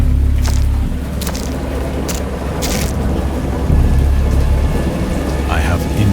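Heavy rain pours steadily while thunder rumbles low and loud, with sharp crackling bursts scattered through the storm.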